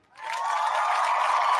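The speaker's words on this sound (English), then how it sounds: "Please hold your applause" Audience applause rises sharply after a brief quiet moment and holds as a steady, dense wash of clapping from a live crowd, loud and even throughout with no speech over it.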